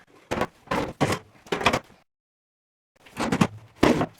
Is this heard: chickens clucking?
no